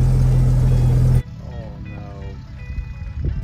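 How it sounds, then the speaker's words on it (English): A small Jeep's engine drones loudly for about a second, then drops off to a softer, uneven running sound with faint whines as it moves away, no talking over it. "Look at your little Jeep go."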